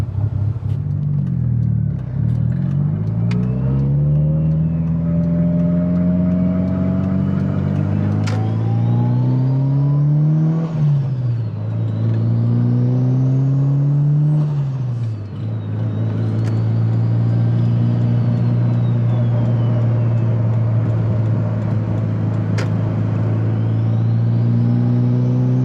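A Mitsubishi Evo 8 with a turbocharged engine accelerates through several gears, each rising engine note climbing and then dropping at the shift, before settling into a steady loud cruise, heard from inside the car with no talking.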